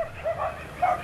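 Dogs bark faintly in the distance, a few soft muffled yaps heard near a driveway against a steady background murmur.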